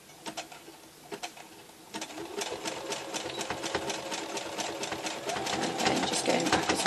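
A sewing machine stitches a zigzag on a tea towel, starting with a few short bursts before settling into a fast, steady mechanical chatter that grows slightly louder toward the end.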